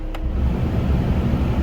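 A Ford Fiesta MK7 heater blower fan runs on setting 4 inside the car, giving a steady, close whoosh of airflow over a low continuous rumble. No one speaks.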